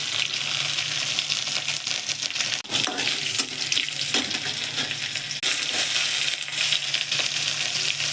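Chillies fry in hot refined oil with a dense, steady sizzle and crackle, close by, broken by a few clattering stirs.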